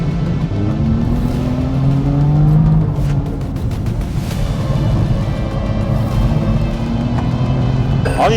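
A BMW M car accelerates hard, its engine a loud, steady roar that holds close throughout with a rising, straining pitch around the middle and no break in the sound.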